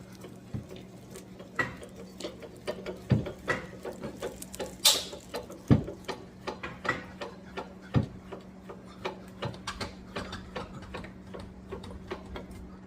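A scissor-style car jack on a Cadillac SRX is cranked by hand, giving a steady run of small ratcheting ticks and clicks with a few louder knocks, close by and with no talking.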